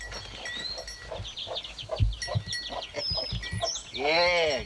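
Chickens cluck in short, repeated bursts close by, with a busy farmyard murmur around them and a louder squawk near the end.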